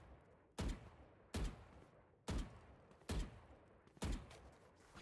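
Video game gunfire from a shooter, with five separate sharp shots spaced about a second apart, each followed by a short decay over quiet background noise, and no talking.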